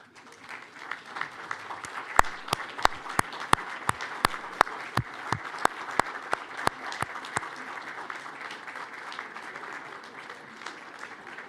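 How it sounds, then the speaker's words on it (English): An audience applauds at a new members' and fellows' ceremony in London, with steady clapping from a sizeable crowd filling the hall and gradually thinning toward the end. "to give them a round of applause"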